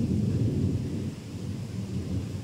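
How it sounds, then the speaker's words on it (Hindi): Heavy rain pours down outdoors during a monsoon-season festival, a steady dense roar of downpour with low rumbling undertones, continuous and fairly loud with no voices. "बहुत बाहर में बहुत ज़्यादा बारिश भी हो रहा है"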